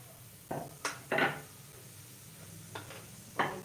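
Spoon scraping and clinking against a pan while stirring paneer masala, in several short separate bursts with quiet gaps between them.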